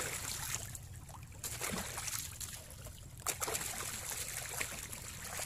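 Items being rinsed by dunking them in lake water at Lake Toba in Balige, with splashing, sloshing and trickling in uneven bursts, close and alone.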